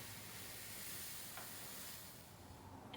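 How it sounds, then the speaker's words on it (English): A steady, broad sizzling hiss from a steam iron pressed on damp cross-stitch fabric over a towel runs through the whole clip and eases slightly near the end. "I just love the nice sizzle."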